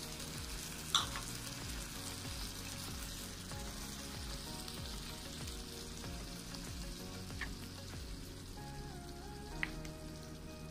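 Sausages sizzle in a pan after water is added, giving a dense, even hiss with crackles throughout and a couple of faint clicks.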